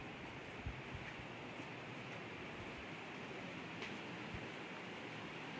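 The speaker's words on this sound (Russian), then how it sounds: "Здесь шумит река где-то." Faint, steady rushing of a river somewhere inside a cave with stalactites, a distant broadband wash of water with no talking.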